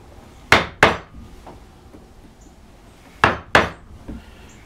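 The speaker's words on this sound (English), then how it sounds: "those I usually strike in with a gouge." A gouge struck into wood while carving a floral panel gives two pairs of sharp, close knocks, each pair quickly repeated, with a faint tap after, alone without talk.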